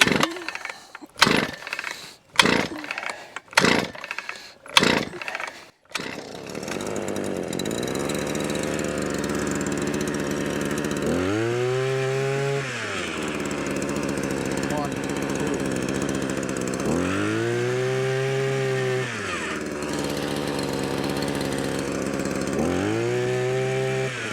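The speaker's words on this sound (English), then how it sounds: "Get the auger going" Powered earth auger drilling a hole in soil for tree planting, started with several sharp pull-cord tugs, then running steadily, its engine revving up and down in three long surges.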